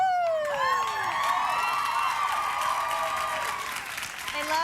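Studio audience on a Los Angeles talk show applauding and cheering loudly and steadily as a comedian comes out, with whoops and a voice over the noise throughout.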